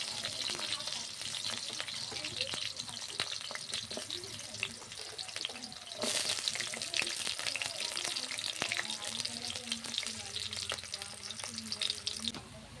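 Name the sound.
garlic and chopped ginger frying in oil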